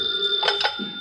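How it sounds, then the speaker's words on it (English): A telephone ringing in an old-time radio drama, a steady electric bell trill sounding close and alone for about a second. "Oh, it's only the phone."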